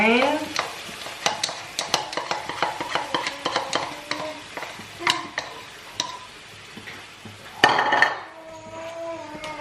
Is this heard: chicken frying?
yes